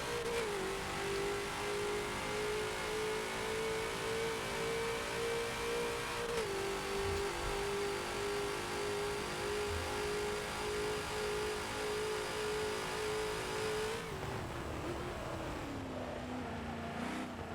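Ford GT40 engine under throttle on the Mugello circuit in the Forza racing game, a loud sustained drone holding steady, a brief shift partway through, then the pitch drops sharply near the end as the revs fall.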